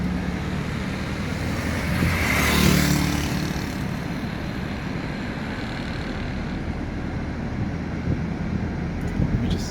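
A car drives along a side road in Bahria Town Phase 7, giving a soft, continuous rumble of tyres and road noise, with a brief swell as something passes close, and no talk.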